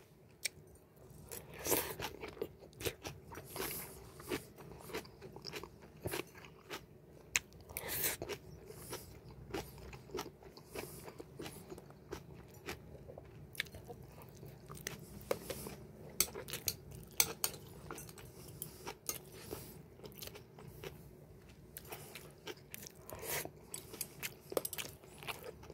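Close, quiet eating of kimchi and a fried egg in a mukbang: scattered clicks of cutlery on dishes mixed with bites and soft chewing, repeating irregularly over a long stretch with no talking.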